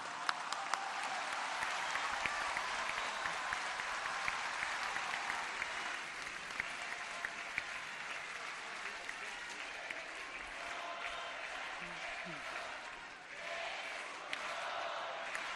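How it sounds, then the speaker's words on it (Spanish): Large crowd applauding steadily at a public event in Tepic, Nayarit, welcoming Mexican President Claudia Sheinbaum; dense, sustained clapping from a distance with faint crowd murmur, dipping briefly near the end. "las virtudes de Claudia Sheinbaum las aplaudimos aquí y las agradecemos"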